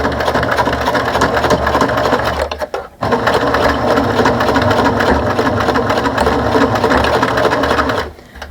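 A sewing machine back stitches a lanyard wristlet with a steady, close, loud mechanical whir. It pauses briefly partway through, then runs on and stops near the end.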